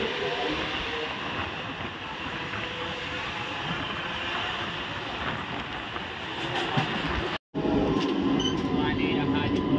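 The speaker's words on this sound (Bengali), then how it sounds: "ঘোড়াঘাটা ট্রেন ছেড়ে দিল।" Local train pulling away from Ghoraghata station on the Howrah–Midnapore line, with a continuous rolling rumble heard from inside the coach that cuts out briefly near the end before resuming.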